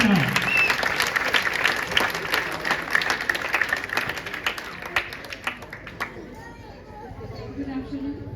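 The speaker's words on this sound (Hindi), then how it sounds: "तो जोरदार तालियों से इनका स्वागत करते हैं।" An audience claps to welcome a speaker at an event, with dense, loud applause that thins out and fades after about six seconds, with some chatter underneath.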